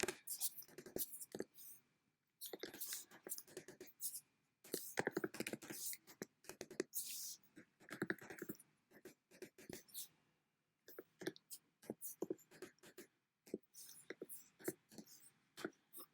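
Someone writing data by hand, with quiet, close scratchy strokes arriving in short irregular bursts separated by pauses.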